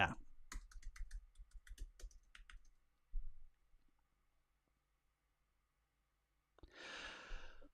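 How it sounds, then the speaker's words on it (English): Quick bursts of typing on a computer keyboard, close clicking keystrokes for a few seconds, then a lone thump and near silence, ending with a breathy sigh. "I can't type and talk at the same time"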